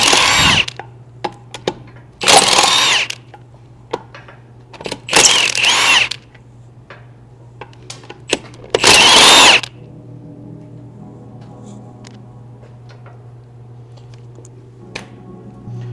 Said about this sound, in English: All right, so I got my 17 millimeter and we're going to remove the wheel.